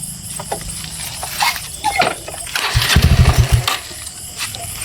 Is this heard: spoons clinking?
no